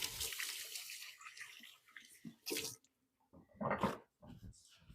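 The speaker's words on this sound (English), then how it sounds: "I'm going to go wash my hands" Tap water running while hands are washed in a kitchen sink, a soft splashing stream with a few louder gushes, faint and nearby with no talking.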